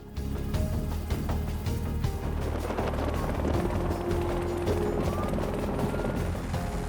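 Helicopter deployed over the sea to chase fast boats at the border, its rotor chop and engine roar loud and steady throughout, with no voices.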